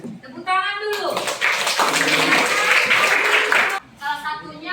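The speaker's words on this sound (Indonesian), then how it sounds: "Tepuk tangan dulu." A high-school class claps hands during a lesson, bursting into a loud, dense round of clapping for nearly three seconds between stretches of a teacher's speech.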